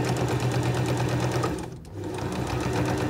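Sewing machine top stitching a continuous strip of fabric bunting made from scrap fabric, a steady close mechanical whir with a brief dip in speed near the middle.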